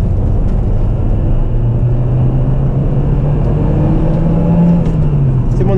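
A car accelerates hard from inside the cabin, a loud, continuous engine roar with the pitch slowly climbing as the speed builds.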